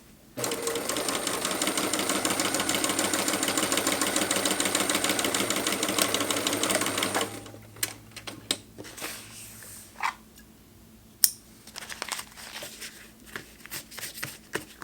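A sewing machine stitches fabric panels for a waist pack, giving a fast, steady whirring chatter for about seven seconds. It then stops, leaving quiet handling noises and a few soft clicks.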